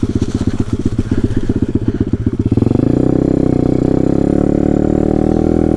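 A Taotao DB17 125 cc pit bike engine runs while being ridden, first with a fast, rough, pulsing rhythm at higher revs, then settling into a steady, lower continuous drone, loud and close with no voices.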